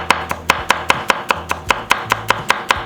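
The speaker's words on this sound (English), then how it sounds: "And rough chop." Steady rough chopping of peppers sliced into rings, a knife striking a cutting board in an even rhythm of about five sharp, close knocks per second, with no voices.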